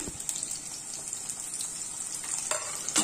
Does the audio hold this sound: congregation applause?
no